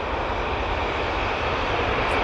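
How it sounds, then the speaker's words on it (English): A Boeing Dreamliner airliner arriving at Manchester Airport, its engines producing a steady, loud, broadband roar that holds constant throughout with no talk over it. "Two Dreamliner just arrived."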